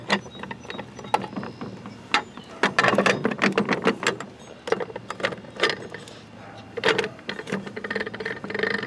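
Gears and parts shift and rattle inside an unserviced Troy-Bilt drive axle, giving irregular metallic clinks, jangles and scraping bursts at close range, fairly loud and uneven, with no speech.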